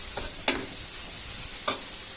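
Momo filling stirred and fried in a pan, a soft steady sizzle with two sharper scraping strokes of the spoon, close and fairly quiet, no voices.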